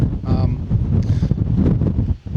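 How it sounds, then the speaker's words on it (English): Loud, buffeting wind on a Scottish mountain, Sgurr na Lapaich, roars across the microphone in steady gusts, close and harsh, with no one speaking. "it's hellish windy"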